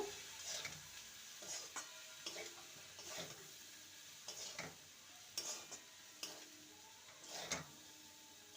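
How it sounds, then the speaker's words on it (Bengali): Soaked poha (flattened rice) is stirred in a pan, with soft, regular scraping strokes of a spoon that repeat about once a second under a faint sizzle. The sound is quiet and close. "চিড়েটা দিয়ে দেবো চিড়ে দিয়ে ভালো করে নেড়ে নেব"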